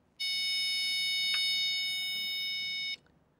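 A homemade logic alarm circuit project sounds a single steady electronic tone, a bright buzzing beep lasting nearly three seconds before cutting off cleanly.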